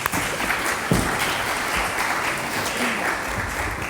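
An audience applauds warmly at an International Women's Day evening gathering, producing a loud, even wash of clapping with a few sharper claps standing out.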